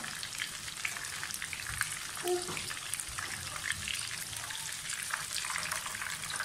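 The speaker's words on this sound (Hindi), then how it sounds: "थोड़े से और फ्राई करेंगे और इन चीज़ों की दिखाऊंगी आपको। फ्राई हो गए हैं।" Chicken donuts fry in hot oil, a steady close crackling hiss that continues without a break and fills the whole stretch, with no talking.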